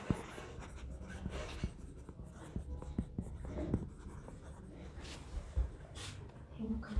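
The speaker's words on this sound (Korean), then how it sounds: "다시 한번 써볼게요." Pen scratching on paper during a Korean-language English grammar lesson, with short strokes and taps at an irregular rhythm, close and fairly quiet, while a voice speaks intermittently.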